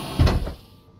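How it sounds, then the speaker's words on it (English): A blast door in the game Stationeers slides open with a short, heavy low whoosh and rumble that fades quickly. "And the blast door is open."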